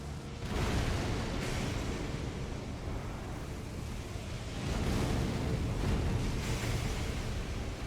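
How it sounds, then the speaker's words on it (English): Boss explosion in the video game Elden Ring rumbles as a deep, sustained boom with a rolling low roar that swells twice, loud and continuous, with no speech. "yeah, there it is. There's the explosion."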